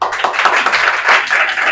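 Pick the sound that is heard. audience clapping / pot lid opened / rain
audience clapping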